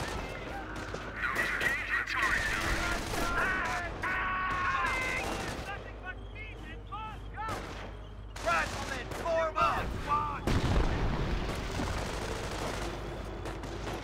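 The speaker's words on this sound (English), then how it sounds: "We're receiving fire. Taking fire." Gunfire crackles through a Company of Heroes battle, with repeated rifle and machine-gun bursts and impacts layered over game music and shouted voice lines across the whole stretch.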